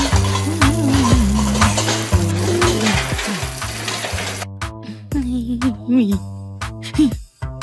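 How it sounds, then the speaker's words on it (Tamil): Metal pots, dishes and vessels clatter and scrape while being washed in a home kitchen, with repeated clinks and rings, close and fairly loud throughout. "அதனாலதான் இந்த பாத்திரத்தை மட்டும் கழுவிக்கிறேன்"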